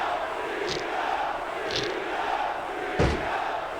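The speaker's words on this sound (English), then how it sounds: "Pandering to the crowd." Arena crowd in the wrestling video game SmackDown vs Raw 2006 roars as a steady wash of cheering, with a few brief sharper swells, no commentary over it.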